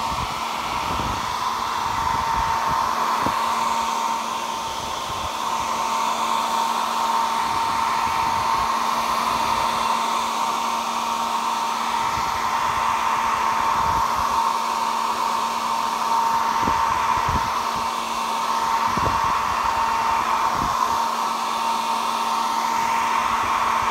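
Hair dryer blowing on paint on a craft project, a steady loud whirring hum with a constant high whine, running continuously for the whole stretch with a few faint clicks and knocks underneath.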